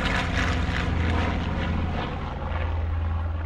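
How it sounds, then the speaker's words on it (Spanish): Propeller aircraft engines droning in Spanish Civil War air combat over the Teruel front, a loud, steady, close rumble that holds through the whole stretch with no speech. "ordena trasladar cientos de aviones al frente aragonés, donde se suceden durísimos combates aéreos"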